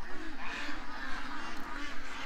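Several ducks being let out quack in a steady, overlapping clamor close by, with a continuous run of loud honking calls across the whole stretch.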